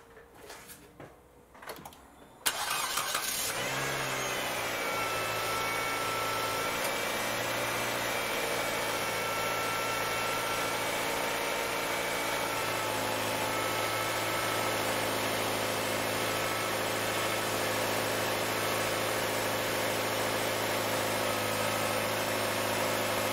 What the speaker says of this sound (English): So I'm just gonna start the car now.